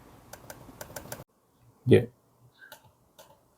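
Trackpad clicks on a Lenovo ThinkBook G6 16-inch laptop, a run of sharp, evenly spaced taps followed by a louder click and a few scattered lighter ones, with a brief word spoken.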